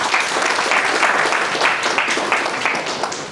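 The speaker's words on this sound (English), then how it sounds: "Let's all give a round of applause for this." Audience applause at a banking audit workshop, a dense steady wash of many hands clapping close by for the full length, loud and without pauses.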